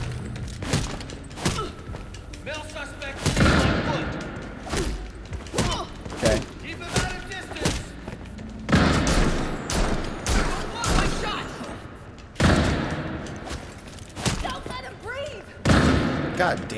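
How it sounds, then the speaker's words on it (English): Enemies open fire in the video game Gotham Knights, loud repeated volleys and bursts of gunshots coming in uneven clusters across the whole stretch, with a voice talking over the shooting. "Why are you guys only shooting?"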